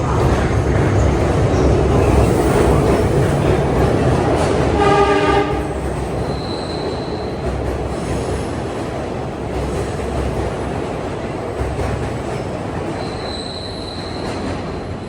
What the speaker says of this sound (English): That Westinghouse AA2 horn they always sound when they come into this station at both ends, both tracks.